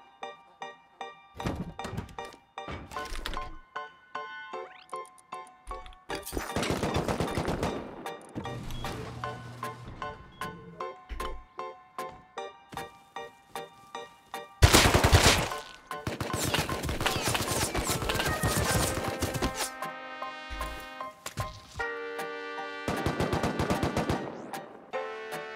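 Guns fire in a survival video game as sharp bursts of close, loud shots, some in rapid strings and others single, separated by gaps and one especially loud volley midway, while game music and tones play throughout.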